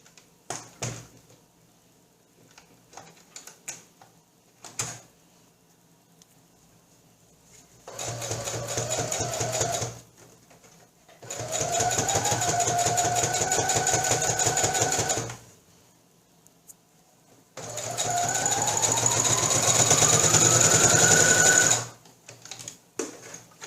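A sewing machine stitches a fabric jewellery and makeup holder in three separate runs of rapid, even mechanical whirring, each a few seconds long, with quiet pauses between them.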